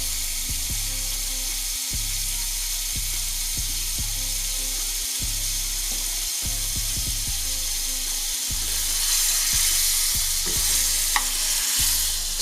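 Three tablespoons of butter sizzle steadily in a hot pan while being browned for carrots, with repeated stirring clatter and scraping clicks over the constant frying hiss, close and moderately loud throughout.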